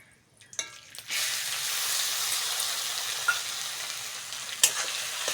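Washed mung dal frying in hot oil with dried red chilli, panch phoron and bay leaf: a loud, steady close-up sizzle begins after a brief clatter, with occasional stirring knocks.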